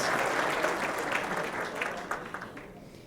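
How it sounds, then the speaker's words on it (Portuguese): An audience at a national seminar on public transport gives a presenter a round of applause, the dense clapping strong at first and thinning out toward the end. "Uma salva de palmas. Luiz Renato de Matos."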